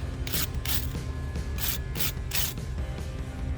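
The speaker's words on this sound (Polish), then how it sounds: "Szczoteczką gwint przeczyścić" A small brush scrubs a bolt thread during rubber-metal bushing replacement on an Audi A2, giving about six quick, rhythmic scratchy strokes close up over a steady mechanical background hum.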